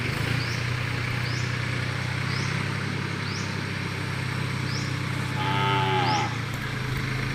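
Cattle low several times in the distance from a pen over the constant engine hum of a New Holland TT 3.50 tractor, with one longer, closer moo near the end.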